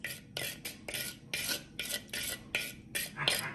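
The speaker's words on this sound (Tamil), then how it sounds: "இந்த தயிர்ல எந்த கட்டியும் இல்லாம கொஞ்சம் நம்ம கரைச்சிக்கலாம்" A spoon works through curd made from low-fat milk in a vessel to break up lumps, giving a steady rhythm of about eight quick scraping, clinking strokes with short pauses between them.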